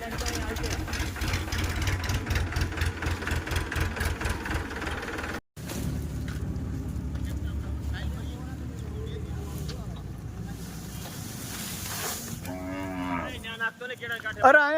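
Cows low loudly and repeatedly at an ashram in Badhada, with deep, drawn-out moos dominating over a rumbling background. People talk briefly near the end.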